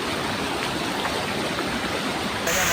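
Puray Falls waterfall pouring steadily, a dense broadband rush of water that stays constant and close, with no talking.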